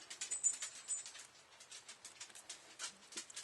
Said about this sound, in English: if you heard that crinkling in the background, that's my dog.